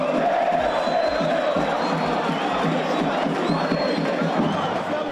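A Santos home stadium crowd cheering and giving Neymar an ovation as he leaves the field in a football match against Flamengo, a steady, loud roar of thousands of voices with shouts rising from the mass.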